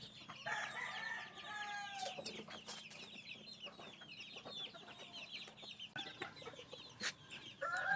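Young cockerels and chickens cluck and call in a scratch pen, a dense, continuous chatter of overlapping clucks with occasional louder squawks, close by and without talking.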